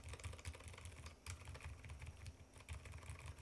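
Steady key presses on a silent custom mechanical keyboard, a Frog Mini or Bauer Lite build, with soft muted clacks in continuous close rhythm and no voices.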